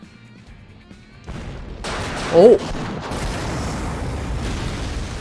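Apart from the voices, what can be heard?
incendiary explosions in a video game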